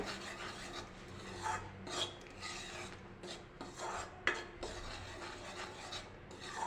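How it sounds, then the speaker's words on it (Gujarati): A sesame chikki mixture is stirred continuously in a pan, producing a steady scraping, rasping rub of spoon against metal with irregular louder strokes and no talk. "તો આવી રીતે આપણે સતત તેને હલાવવાનું છે"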